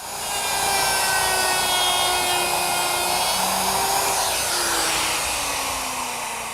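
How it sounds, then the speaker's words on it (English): A handheld router rounds over the edges of a wooden frame with a loud, continuous high-pitched whine and grinding cut, held steady throughout. "I've switched routers and router bits,"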